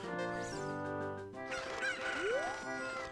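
A chicken in the video game Ocarina of Time at Lon Lon Ranch gives squawking clucks with a rising cry, heard over steady layered in-game background music.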